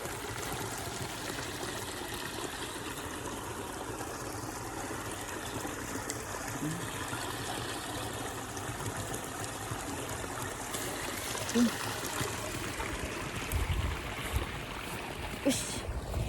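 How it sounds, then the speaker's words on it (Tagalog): Irrigation water flows steadily into a rice paddy, a continuous close rushing and trickling wash that persists without a break throughout. "Ayan, patubig na tayo."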